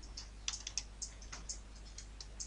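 A computer keyboard is typed on in quick, irregular bursts of light clicking keystrokes, close and fairly quiet over a low hum.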